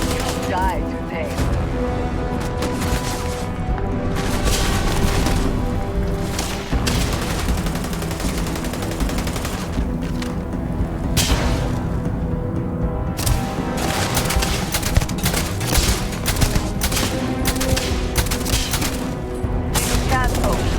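Rapid sci-fi gunfire rattles through a video game firefight in Starfield, dense bursts and booms layered over a constant soundtrack for the whole stretch, with a voice speaking over the action.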